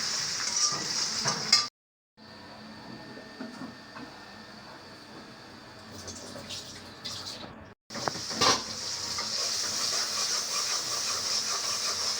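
Chopped garlic and onion sizzle in hot oil for a dal tempering, a steady hissing fry that cuts out twice in brief gaps before resuming.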